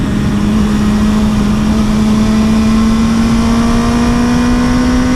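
A BMW S1000 motorcycle engine pulls hard through the gears, a loud, close, steady rising whine climbing in pitch across the whole stretch without a break.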